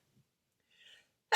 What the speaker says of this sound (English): let me sneeze a little bit there